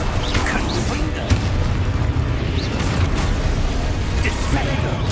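Confringo spell blasts in the video game Hogwarts Legacy, with repeated booming explosive bursts over a dense, loud game soundscape, and a voice calling out spell names throughout.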